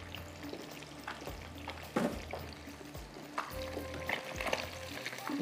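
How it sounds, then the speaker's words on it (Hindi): Fish fries in oil with a faint, soft sizzle and bubbling, mixed with occasional low thumps and handling noises from the pan. "फिश हमारी फ्राई हो रही है"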